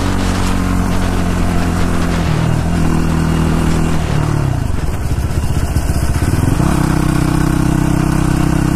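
A Yamaha YFZ 450 ATV engine runs steadily in fourth gear, a loud continuous mid-pitched drone with a dip in revs midway before settling back into a strong, even tone.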